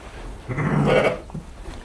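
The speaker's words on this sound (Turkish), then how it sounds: "Burada 5-6 koyun var." A single sheep lets out one drawn-out, mid-loud bleat inside a pen holding a handful of sheep, with quiet background noise before and after.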